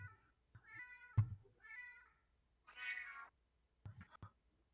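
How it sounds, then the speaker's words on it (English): A string of short cat meows, electronically pitch-corrected so each one sounds like a sung note, separated by brief pauses and a couple of sharp clicks. "Cat auto-tuned."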